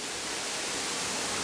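Rushing water at Kintampo Waterfall in Ghana produces a dense, steady roar of broadband noise, loud and unbroken throughout.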